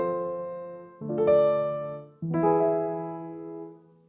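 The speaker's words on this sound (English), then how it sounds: "this really tiny, small, regular piano chord progression sounding like this." Small, plain piano chord progression of three sustained chords, each struck and left to ring and decay, played alone at moderate volume.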